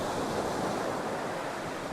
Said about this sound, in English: So incoming tide, the waves will get bigger as they go.